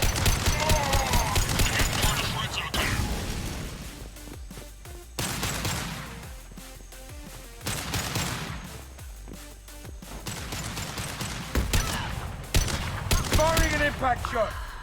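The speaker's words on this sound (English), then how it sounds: "Firing an impact shot!" Heavy weapon fire from Mass Effect Legendary Edition arrives in several loud bursts of rapid shots mixed with crashes and mechanical game effects, while a voice talks at points between the volleys.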